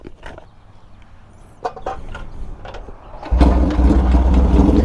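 A Yamaha RD350 cafe racer motorcycle is kicked a few times with clunks, then the two-stroke engine catches and settles into a loud, close, steady idle outdoors.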